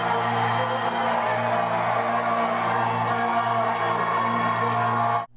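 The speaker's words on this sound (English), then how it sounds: "and the crowd went nuts" Concert crowd at a show in Atlanta cheering and roaring as the band takes the stage, a loud, dense, continuous wall of whoops and shouts with a steady low hum underneath that cuts off abruptly at the end.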